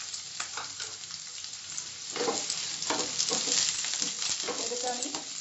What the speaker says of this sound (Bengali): স্লাইস করা পেঁয়াজটা দিলাম,